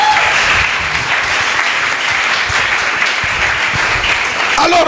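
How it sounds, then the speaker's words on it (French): Congregation applauding and cheering inside a church during a sermon on the cross of Jesus, a dense, steady wash of clapping and shouts lasting throughout at close range. "Est-ce qu'on peut acclamer pour la croix de Jésus?"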